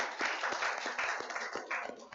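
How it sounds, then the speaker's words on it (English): A small group claps at a regular council meeting to honour a community resiliency award, making a brief, fairly close round of applause with a soft rhythmic patter. "which is definitely worth some applause"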